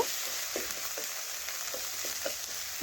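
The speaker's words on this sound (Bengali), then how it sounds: "এখন ভালোভাবে একটু নাড়াচাড়া করে মশলা একটু ভেজে নেব।" Spices with Kashmiri chili powder fry in a pan, a steady soft sizzle with light scraping taps from stirring at a regular pace, fairly quiet and close, no voices.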